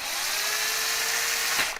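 A LYUWO 12V LW-5012 cordless screwdriver's chuck whirs steadily for under two seconds as a drill bit is clamped in it, a close, even mechanical drone with a faint tone that cuts off abruptly.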